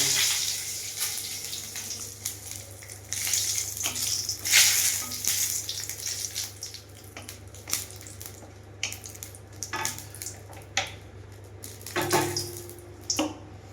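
Panch phoron, bay leaf and dry chili hitting hot oil in a wok for Bengali moong dal, giving a steady broadband sizzle with crackling bursts and a louder splutter near the end, no voices.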